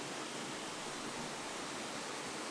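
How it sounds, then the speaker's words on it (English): Steady broadband rush of a small waterfall in the Mount Rainier foothills, a constant hiss of falling water with no talking. "A pretty waterfall as well."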